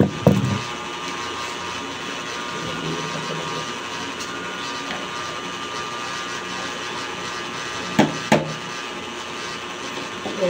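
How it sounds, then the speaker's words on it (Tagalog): A helicopter passes overhead, giving a steady, broad engine and rotor drone that holds evenly throughout, with a few sharp clicks nearby. "Helicopter, helicopter."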